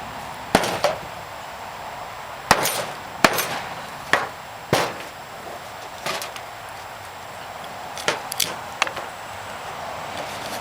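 An Ontario bushcraft field knife chops wood in a string of sharp, close knocks, irregularly spaced, some single and some in quick pairs, over quiet outdoor background.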